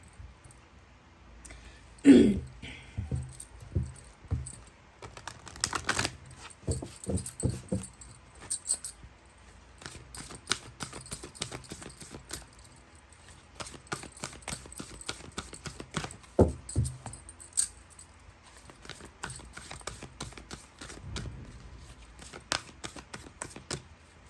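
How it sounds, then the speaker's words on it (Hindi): Tarot cards being shuffled by hand, with repeated soft riffling and slapping bursts that come close and moderately loud, broken by short pauses and light clicks, with no one speaking. "तब तक मैं कार्ड्स को सफल कर लेती हूँ।"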